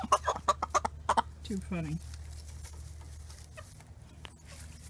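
Chickens cluck in a burst of close, rhythmic calls followed by a drawn-out squawk, with a brief spoken remark and quieter background afterward.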